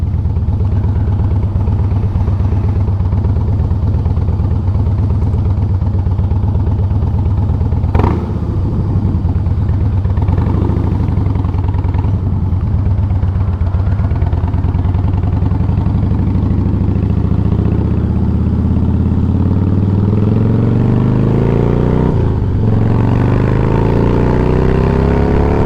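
Harley-Davidson FL/FX touring motorcycle of about 690 pounds, heard loud and close while riding, its engine droning steadily with rising and falling revs as it accelerates.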